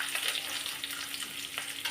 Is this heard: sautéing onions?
yes